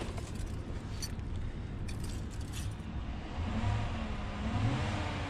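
The 5.3 V8 of a 2016 Chevrolet Silverado fitted with a Borla ATAK exhaust and K&N cold air intake rumbles steadily and is blipped into a modest rev, a deep droning exhaust note that swells toward the end, with no talking.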